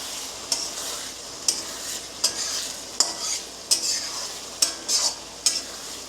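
Masala for mutton paya frying in oil and ghee, with a steady close sizzle broken by about nine regular scraping stirs of a spoon through the pan; no talk.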